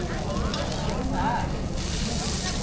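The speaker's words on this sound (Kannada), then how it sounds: "ಬೆಣ್ಣೆ ದೋಸೆ ಬಿಸಿ ಇಲ್ಲಿ ರೆಡಿ ಆಗ್ತಾಯಿದೆ" A Davangere butter dosa sizzles on a hot griddle in a steady, close, crackling hiss, with voices faintly in the background.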